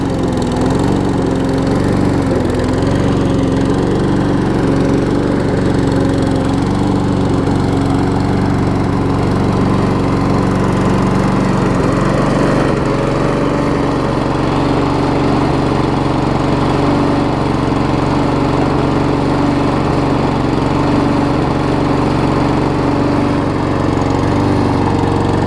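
A Troy-Bilt TB230 self-propelled push mower engine runs loud and close, a steady continuous drone with slight shifts in pitch partway through.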